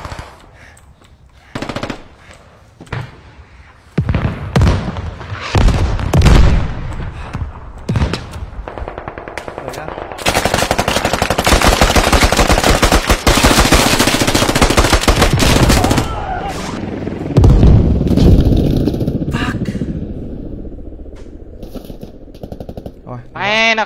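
Heavy automatic gunfire in the squad shooter game PewPew, loud bursts and rapid rattling volleys through most of the clip, with players talking intermittently over the shooting.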